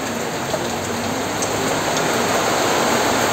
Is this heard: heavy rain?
yes